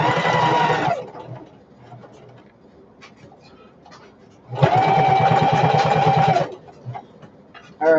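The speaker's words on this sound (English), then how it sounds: "Top stitching all the way down." A sewing machine top stitching a shoulder bag runs in two loud, steady bursts, about a second and then two seconds long, with quiet handling and rustling in between.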